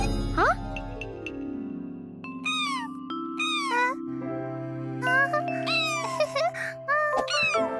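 Tommy the cat meows repeatedly in a cartoon, a series of bright rising and falling mews, some drawn out, over a sustained musical chord with light tinkling touches, clear and close.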